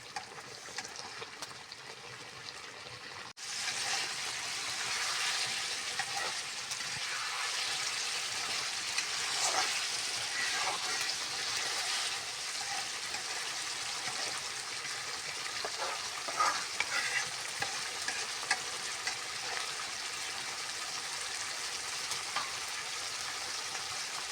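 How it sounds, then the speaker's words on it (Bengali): An aubergine and egg curry is stirred in a pan with its lid lifted, giving a steady, close sizzle of frying with soft scraping and stirring throughout after a quiet opening moment. "এখানে একবার মাঝে ঢাকনাটা উঠিয়ে নেড়ে দিতে হবে। তো এই যে দেখুন, এই যে নেড়ে দেওয়া হচ্ছে।"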